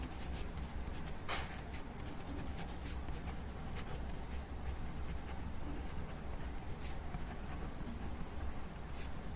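Handwriting scratches steadily across a surface while a graph is drawn for a maths lesson, a close, continuous scraping with occasional sharper taps of the pen.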